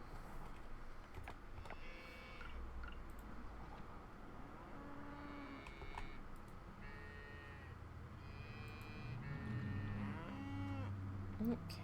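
Farm cows in the video game Coral Island moo several times at spaced intervals, fairly faint, over a low background with soft keyboard clicks.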